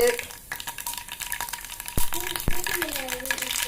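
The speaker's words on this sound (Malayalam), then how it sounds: "കടുക് പൊട്ടുന്നുണ്ട്" Mustard seeds splutter in hot oil for an okra curry, with sharp, scattered pops, two especially loud cracks near the middle, over a soft frying sizzle, with faint voices in the background.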